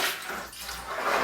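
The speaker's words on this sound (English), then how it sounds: "So we're going to dump this sugar water in here," Sugar water poured into a batch of beer for bottling gives a continuous splashing, gushing pour. It dips briefly in the middle before swelling again, close and steady, with no talk.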